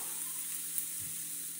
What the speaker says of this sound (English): you're going to hear that little bit of sizzle, and that's when you know that your oil is ready to go.